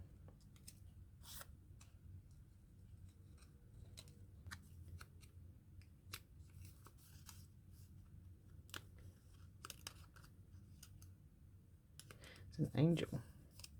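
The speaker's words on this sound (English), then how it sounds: "This little fellow, I might have to cut him a bit better." Scissors snipping out a small paper figure for a vintage Christmas collage book, quiet intermittent clicks and cuts scattered over a low background, with a brief voice near the end.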